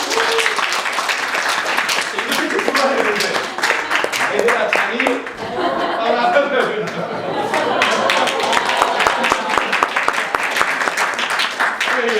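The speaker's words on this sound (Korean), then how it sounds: "자, 우리 뮤지션들을 모시다. 박수 한번 모실까요?" A church congregation claps for the musicians, with sustained applause and some laughter and chatter mixed with someone talking over it.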